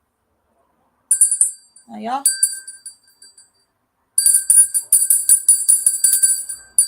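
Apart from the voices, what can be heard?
bell rung to snuff a candle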